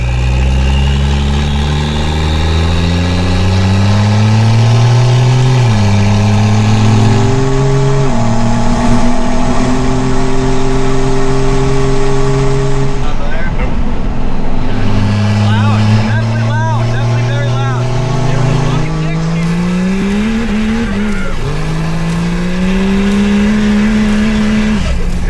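A hood-stacked Cummins diesel truck engine on its first drive, loud and close, revving up through several gear shifts with rising and falling tones over sustained exhaust roar.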